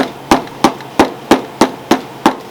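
A hammer tapping down a concho on a leather saddle, eight evenly spaced sharp knocks close by at a steady rhythm of about three per second.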